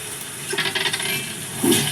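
Dice rolling in an RPG video game, a quick run of light rattling clicks in the middle, then a brighter clatter near the end, close and fairly loud with no talk.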